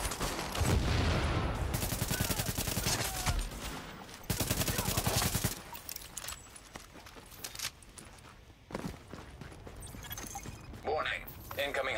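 Gunfire in Tom Clancy's The Division, sustained dense bursts of automatic shooting, then scattered single shots and shorter volleys, with an announcer voice speaking over parts of it.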